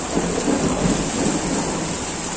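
Heavy rain pours steadily in a dense, even roar with a low rumble beneath, a storm soaking and flooding a street, with no voices.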